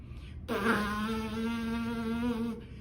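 Lips buzzing as for a trumpet, a single sustained nasal buzz of about two seconds that starts abruptly and stops cleanly, heard alone at close range.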